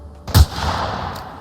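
A single loud gunshot booms close up in Fallout VR, a sharp heavy blast followed by a lingering rumbling echo that fades out.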